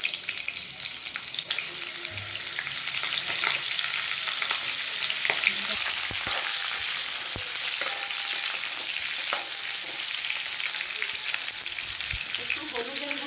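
Cauliflower frying in oil gives a loud, continuous sizzle with dense crackle and occasional spoon scrapes and knocks against the pan throughout.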